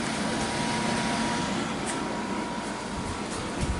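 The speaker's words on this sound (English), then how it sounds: "I'll go ahead and set up our little air conditioner situation here." A small portable air conditioner runs loudly with a steady, broad whooshing drone and faint tonal hum, continuous and close with no speech.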